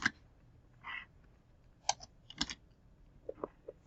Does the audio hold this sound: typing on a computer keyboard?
yes